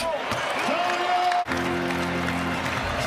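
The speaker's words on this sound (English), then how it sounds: "the Target Center faithful that are still around applaud the effort" Applause from the Target Center crowd at the end of a Timberwolves basketball game against the Knicks rolls on beneath a commentator's voice, a broad, distant wash that continues after a brief cut.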